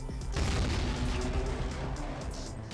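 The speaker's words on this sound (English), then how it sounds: "We are gonna use our last pipe bomb on the shark." A pipe bomb blast in the Half-Life mod Poke646, a loud deep boom with a rumbling tail that fades slowly over a couple of seconds, no speech.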